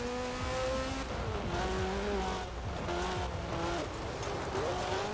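A rally car in a racing video game drones under sustained engine noise, with long, wavering tire squeals and skids sliding up and down in pitch, all close and continuous.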